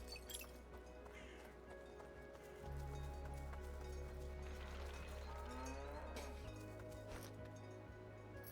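Cows lowing in the Dungeons of Hinterberg video game, drawn-out tonal moos rising over quiet ambient game sounds and faint clinking, with a low sustained hum shifting partway through.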